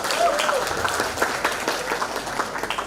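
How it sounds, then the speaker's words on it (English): A lecture audience claps in a dense patter of applause that continues steadily, with a voice briefly audible at the start. "Give applause for Mr. Luna."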